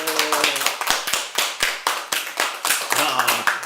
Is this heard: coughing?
no